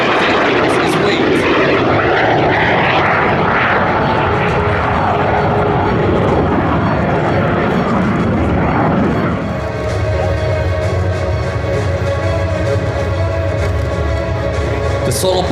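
Frecce Tricolori jets flying an airshow display at Cold Lake, a loud continuous roar of engines that sweeps in pitch as the aircraft pass overhead, steady and powerful throughout with no speech in the clip.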